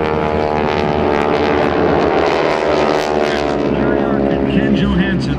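Blue Angels and GEICO Skytypers airshow planes pass in a vertical diamond formation, a loud, steady propeller and engine drone that holds throughout with faint crowd or announcer voices beneath.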